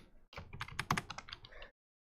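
A short burst of computer keyboard typing, a dozen or so quick close key clacks, stops cleanly into silence.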